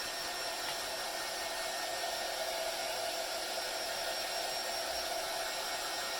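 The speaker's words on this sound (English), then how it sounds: "Just going to hit it with a dryer." Handheld blow dryer aimed at a freshly applied transfer, a steady close whooshing drone that holds evenly throughout with no pauses or speech.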